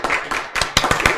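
Several sharp hand claps sound in a classroom lecture, a few scattered claps followed by a quicker run of close, crisp strikes.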